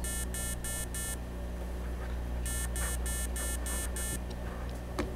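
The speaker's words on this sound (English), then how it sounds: "it'll beep while all 5 are lit up" A small speaker on an Arduino board gives a run of short, evenly spaced high beeps, then a pause and a second longer run of beeps, thin and steady over a constant low hum.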